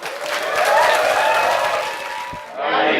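Audience applause at a Startup Grind event, a steady wash of clapping from a room of people that thins briefly before swelling again.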